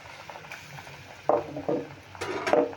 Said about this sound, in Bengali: প্রথমে আমি একটাই ভেজে নিচ্ছি এইভাবে নিচ থেকে তেলটা ওপর দিয়ে ছড়িয়ে দেবো